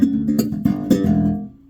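1966 bass guitar played straight through its pickup with no preamp: a short run of a few plucked low notes, dry and close, with no talking.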